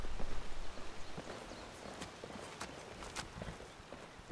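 Horse hooves clip-clop in the video game Skyrim as the horse walks along, an uneven stream of soft thuds and clops at moderate volume with no talking.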